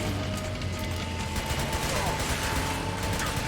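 Continuous rattling gunfire fills a chaotic Metal Gear Solid 4 battle, a steady dense wash of shots and explosions at constant loudness with no pauses.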